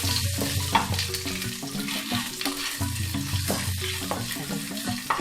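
Dried red chillies, bay leaves and five-spice seeds hit hot mustard oil for a tempering, crackling and sizzling steadily up close while a spoon stirs through the pan.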